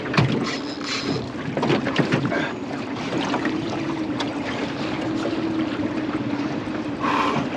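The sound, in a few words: small aluminium boat (tinny) idling on the water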